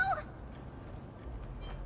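A person imitates a cat with a short, high meow at the very start, over a low constant background hum in a Honkai Star Rail game scene.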